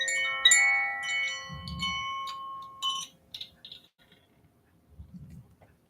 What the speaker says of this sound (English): And this is a koshi chime.